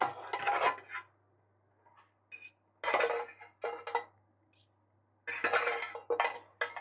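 A fork mashes boiled potatoes in a pot, giving several short bursts of metallic scraping and clinking against the pan, separated by quiet pauses, close and fairly crisp.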